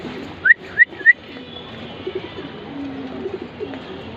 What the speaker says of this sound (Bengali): সবগুলো বিগ সাইজের কবুতর, ডাউন শেপের লাইট কালারের মাদি কবুতর